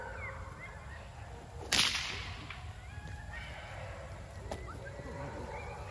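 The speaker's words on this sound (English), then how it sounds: "Saw me throw the whip." One sharp, close whip crack from a thrown whip near 12-week-old pups, its snap fading quickly into a low outdoor background.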